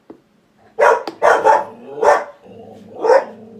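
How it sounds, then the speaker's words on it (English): A dog barks close and loud at something by the door: five sharp barks in uneven bursts, the later ones lower and rougher with a growly edge, and no talking between them. "She's like growling at something."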